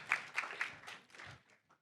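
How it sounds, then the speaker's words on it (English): An audience at a peer mediation celebration applauds Lawndale High School students, brief and faint clapping with a few distinct claps that quickly fade. "Please give a round of applause for Lawndale High School"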